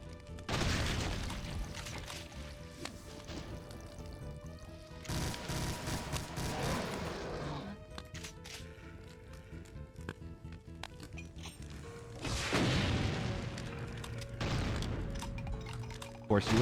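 Gunfire from shotgunner and chaingunner enemies in a Doom game with a brutal mod, loud repeated bursts of shots and blasts in several clusters, with rapid volleys and clinking between them.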